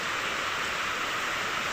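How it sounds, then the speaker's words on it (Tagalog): Moderate typhoon rain falls steadily, a continuous, even hiss of rainfall close by, not especially heavy, with no voices or other sounds. "Pati yung ulan hindi naman gaano kalakas"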